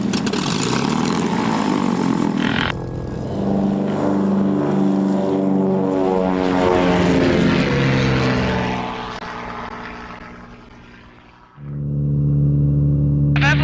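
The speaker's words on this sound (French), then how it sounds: "On va décoller face au nord, c'est là que c'est dégagé." Propeller aircraft on a survey flight for marine mammals, its engine roaring loud and steady with strong harmonic drone as it takes off heading north, the pitch shifting as power changes and dipping briefly before surging again.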